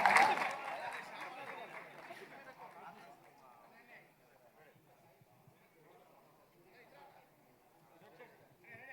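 A crowd at a film teaser launch event claps to welcome lyricist Kasarla Shyam onto the stage, a short burst of applause that quickly fades into quiet crowd murmur.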